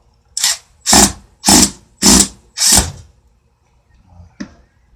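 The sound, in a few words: power drill removing painted screws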